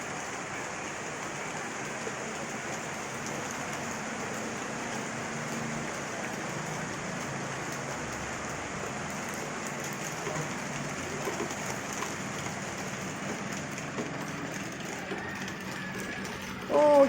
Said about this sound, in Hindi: बारिश स्टार्ट हो चुकी है।